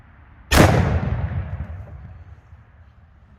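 A single black-powder muzzleloader rifle shot fires with a sharp, loud crack, followed by a long rumbling decay that fades over a few seconds.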